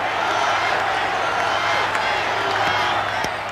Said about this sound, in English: Crowd chanting, Charlie, Charlie.